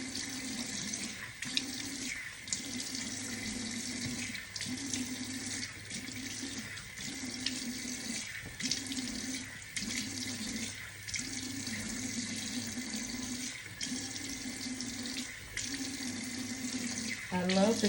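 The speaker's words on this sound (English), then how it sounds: "And I'm just rinsing with lukewarm water." Lukewarm tap water runs steadily into a sink while someone rinses off their face, with a continuous close hiss broken by regular splashing pulses from the hands.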